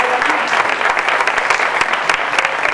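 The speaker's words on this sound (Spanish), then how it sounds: "Un fuerte aplauso para mí y para Marta Puyal." Studio audience applauding for a physiotherapist guest on a Spanish TV health segment about healthy posture, a dense, steady wash of many clapping hands, loud and close, with no talk over it.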